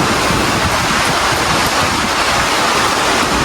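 Steady rain driven by gusting wind at a blacksmiths' workplace, a dense, even roar of wind and water that fills the whole stretch without a break and with no voices.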